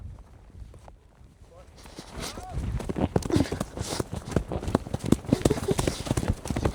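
Hooves of a ridden horse clip-clop in an uneven walking rhythm, close and fairly loud, starting about two seconds in over rustling outdoor background noise.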